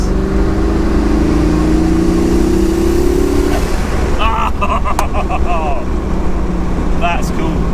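Twin-turbo V8 swapped into a Morris Minor, rated at 400 hp, revving loudly with rising and falling engine tones, followed by sharp bursts as the turbos spool and the blow-off valve vents.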